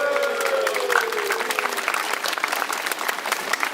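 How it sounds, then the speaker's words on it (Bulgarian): An audience at a Bulgarian Christmas caroling performance applauds carolers, with dense steady clapping throughout and a fading tone in the first half. "Аплодисменти за нашите коледари!"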